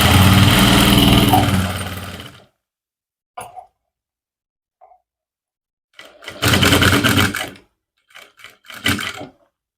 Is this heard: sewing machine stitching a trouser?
yes